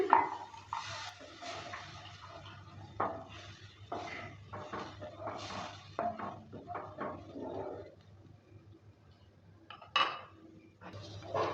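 Spoon scraping and clinking against a pan while stirring kofta curry gravy after water is added, with irregular metallic taps and scrapes over a low steady hum, close and fairly quiet.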